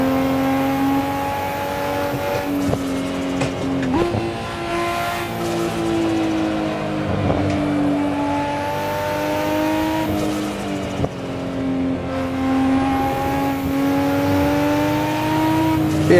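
A Nissan GTR engine in Assetto Corsa, driven through the LA Canyons, revs steadily with a loud, sustained drone that climbs in pitch, drops sharply at gear shifts, then climbs again.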